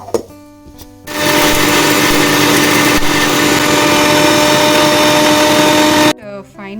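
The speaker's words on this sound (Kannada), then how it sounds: "ಪುಟಾಣಿ ಮಿಕ್ಸಿ ಮಾಡ್ಕೊಳ್ಳೋಣ ಅಂತ." A mixer grinder whirs loudly and steadily for about five seconds as it grinds roasted gram into a fine powder in a home kitchen, with a short pause at the start and brief talk at the end.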